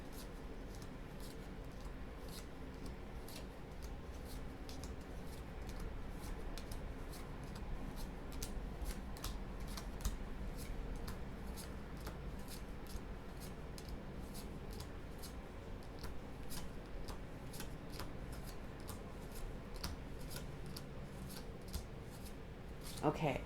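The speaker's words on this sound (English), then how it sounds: "Again, I have to count cards." Tarot cards are quietly handled and counted, with a long run of faint, evenly spaced soft snaps and flicks against a low hush, close but very quiet.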